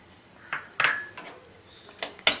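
A spoon knocking and scraping in a pan while kulfi milk mixture is stirred, a handful of sharp metallic clinks spread irregularly across a quiet background.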